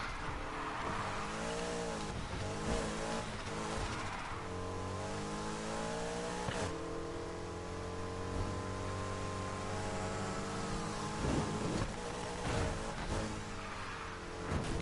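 Race car engine in the Need for Speed Heat video game, revving hard with rising and falling gear sweeps and a brief tire squeal, loud and continuous with no talking.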